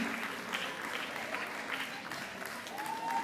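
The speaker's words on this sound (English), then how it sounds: "Keep the applause going for them." Applause from the audience at the grand finale of a public sector debate competition as a team walks up for photos: a quiet, steady patter of many hands, fairly distant and soft, with a brief tonal whine near the end.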